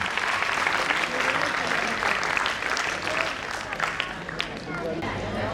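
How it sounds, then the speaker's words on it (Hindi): A crowd claps continuously at a school annual function, with some voices and chatter mixed in, the clapping steady and moderately loud. "जोरदार तालियां बजाइए।"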